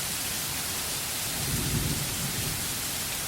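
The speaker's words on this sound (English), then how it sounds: "Small drops at first, then larger drops, and then sheets of rain plummeting us" Steady heavy rain pours down in sheets during a thunderstorm on a long-distance hike, a dense continuous roar with a low rumble swelling near the middle.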